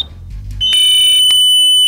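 A quiz show buzzer goes off as a contestant presses it, a loud sustained electronic tone with bright harmonics that starts abruptly and holds steady, with a short burst partway through, after some low room noise.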